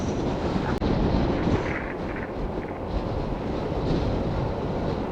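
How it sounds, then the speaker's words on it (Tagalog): Strong wind roars steadily and loudly across the microphone on an open-road ride north from Manila toward Ilocos Norte, a dense, unbroken buffeting rush with no voices. "Malakas lang talaga ang hangin."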